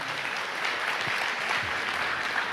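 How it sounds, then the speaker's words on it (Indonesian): A church congregation applauds during a sermon, a dense, even wash of many hands clapping at once that holds steady for a few seconds with no talk. "Bisa lebih dahsyat dari ini tepuk tangannya."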